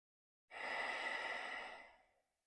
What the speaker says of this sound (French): Continuez ici à cultiver votre respiration en Ujjayi.